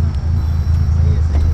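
Interior rumble of a homemade EXO-1 car driving along, a steady low engine and road drone throughout, close and fairly loud.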